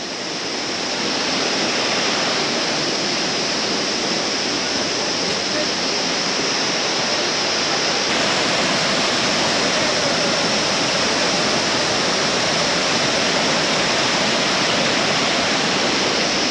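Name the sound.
water flowing down through water pipes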